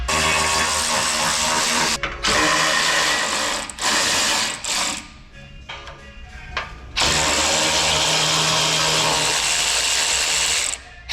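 Power tool spinning out the skid plate bolts underneath a Ford Bronco, two long loud whirring runs with a brief burst and clicks between them, close up.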